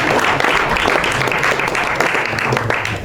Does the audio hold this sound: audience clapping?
yes